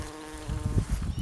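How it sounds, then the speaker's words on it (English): A bee hums steadily nearby outdoors in Ireland, a continuous, fairly close, droning buzz that wavers slightly in pitch over about a second. "So you can just hear a bee up here."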